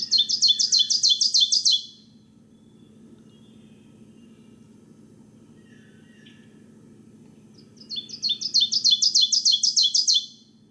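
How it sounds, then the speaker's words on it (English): Ground-nesting thrush-family songbird, likely an ovenbird, gives two loud rising bursts of rapid repeated two-note phrases, one at the start and one near the end, separated by a quiet pause over a low steady background hum. "You'll hear this ground nesting bird."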